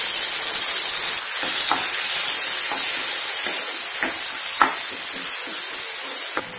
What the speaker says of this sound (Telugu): సోంపు ఫ్రై అవ్వగానే ఈ ఆనియన్ పేస్ట్ వేసుకోవాలి